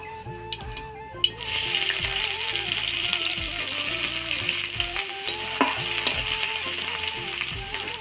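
Onion dropped into hot oil tempered with black cumin in a heated pan, a sudden loud sizzle bursting in after a quiet start and hissing steadily with stirring scrapes throughout; music plays underneath.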